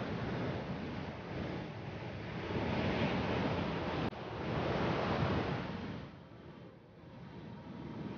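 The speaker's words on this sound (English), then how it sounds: "The powerful waves rise far out of the Atlantic and crash down on the Namibian coastline." Powerful Atlantic rollers crash onto the Namibian desert coastline, a continuous roar of surf that swells and recedes in broad surges, with some wind noise and no voices.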